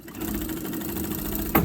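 A sewing machine runs steadily, stitching a seam in lace for a ball gown, with a continuous rapid mechanical hum and a short clunk near the end.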